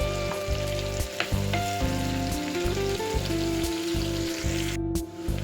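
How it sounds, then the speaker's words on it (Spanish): Chopped leek and pork loin sautéing in a pressure cooker, a continuous bright sizzle and spatter with a rhythmic mechanical hum underneath, close and steady, with a brief dropout near the end. "Ahora vamos a rehogar un poco esto"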